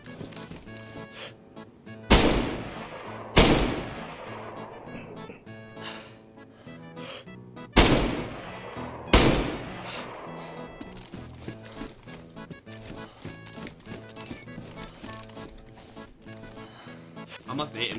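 Four sharp, loud rifle shots from DayZ in two close pairs, each with a ringing decay, over ongoing game ambience and someone talking.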